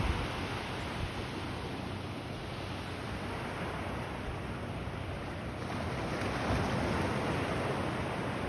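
Steady broadband wash of surf on a Gulf of Mexico beach along the Texas coast, continuous and fairly loud with wind rumble against the microphone, no pauses or voices.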